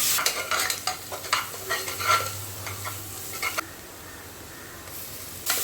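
Onions sautéing with salt in a pan crackle and hiss while a spatula scrapes and taps in quick, uneven strokes, then the stirring stops and a faint sizzle carries on alone.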